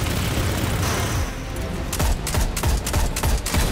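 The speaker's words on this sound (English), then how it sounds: "Blinding, slowing rockets." Blinding, slowing rockets firing in the Destiny 2 video game, a dense roaring barrage followed by a rapid series of about eight sharp booming impacts, loud and close.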